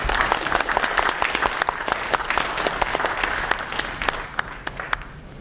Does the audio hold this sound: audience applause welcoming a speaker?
yes